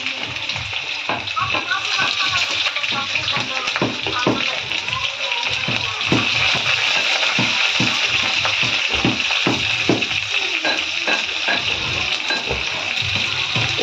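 Onions fry in a pan with chillies and bay leaf for chicken curry, a continuous watery sizzle with scattered clattering and stirring, while voices come and go in the background.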